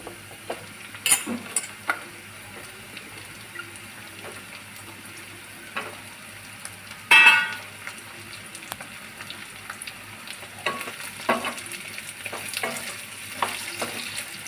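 Soft, steady sizzling of cut potato pieces frying in a pan, punctuated by occasional scraping clinks of a utensil stirring, with one sharper clatter midway.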